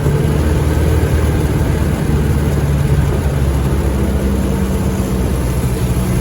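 A Model T Ford engine running in first gear, a loud, steady low rumble with a constant drone and no speech over it.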